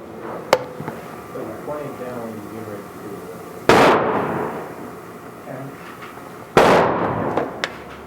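Two sharp, loud rifle shots from an MGM Encore chambered in 30/30, fired at a 50-yard target with 200 grain cast bullets, ring out a few seconds apart, each trailing a decaying echo, with someone talking quietly beforehand.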